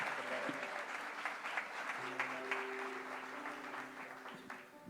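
Church congregation applauding steadily for about five seconds at a Winter Conference gathering, dense even clapping from a full room with some voices and tonal background hum underneath.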